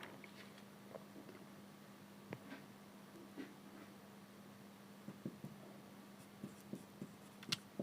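A pen scratches out a polynomial division solution for a class 10 maths lesson, making faint, soft strokes with small taps over a low, steady hum and no speech.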